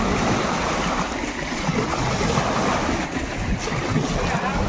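Strong water rushes at the Ettipothala waterfalls near Nagarjuna Sagar, a loud, dense, continuous roar of flow mixed with wind buffeting the microphone.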